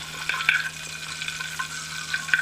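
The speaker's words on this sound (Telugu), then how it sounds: "అదే పెనంలో టూ టేబుల్ స్పూన్ ఆయిల్ వేసి అందులో పచ్చిమిరపకాయలు వేసి ఒకసారి కలిదిప్పండి" Green chillies fry in oil that sizzles steadily with a light crackle, broken by a few sharp clicks of a spoon stirring in a pan, fairly close.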